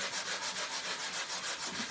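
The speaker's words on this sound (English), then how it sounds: "And then we're going to sand just a little." A Dollar Tree hand sander rubs back and forth over a wooden pallet craft sign, a close, steady rasping with quick rhythmic strokes, no talk.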